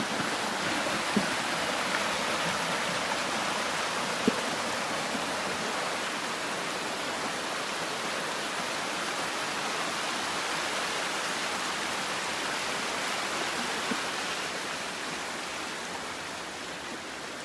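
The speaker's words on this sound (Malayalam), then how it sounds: "ഇത് അവിടെ നിന്ന് കുറച്ച് മാറിക്കഴിഞ്ഞാല് ഉള്ളൊരു വലിയ വെള്ളച്ചാട്ടം, പിന്നെ അരുവി, അതൊക്കെ ഉള്ള സ്ഥലം." A large waterfall and stream at Mamalakandam rush continuously in a soft, even wash of noise, heard from some distance with a few faint clicks.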